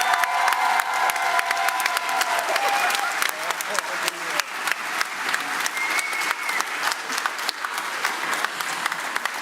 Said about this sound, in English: One more huge round of applause for all of CLA 2022.